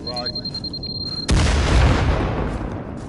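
Video game grenade explosion in Firewall: one sudden loud boom cuts in after a quiet beat and rolls into a long, heavy rumbling decay.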